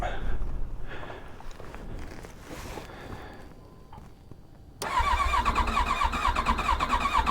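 An older motorcycle, kept alongside a Super Tenere and an FJR, cranks over with a whirring starter through quiet surroundings, then catches and settles into a loud, steady, rumbling idle close by.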